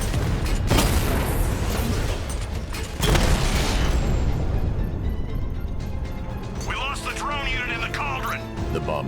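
A loud boom and crashing burst from an explosion in Batman: Arkham Knight, followed by mechanical clatter, with a voice talking over the end.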